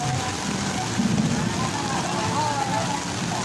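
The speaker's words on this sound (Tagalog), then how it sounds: "Lalakas na ulan." Steady heavy rain falls during an outdoor Marian procession in the Philippines, a dense continuous hiss with faint crowd voices and activity underneath throughout.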